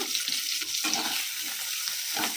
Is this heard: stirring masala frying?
yes